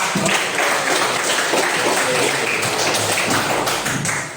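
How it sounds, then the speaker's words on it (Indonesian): Applause from a classroom audience during a teacher training session, a steady dense patter of hand claps filling the room without pause. "Kasih tepuk tangan dulu dong sama"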